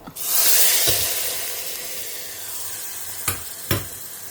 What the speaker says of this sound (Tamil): ஸோ இங்கே கூட்டு கொதிக்க ஆரம்பிச்சிருக்கு.